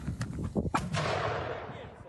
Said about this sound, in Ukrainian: Ой, постріл!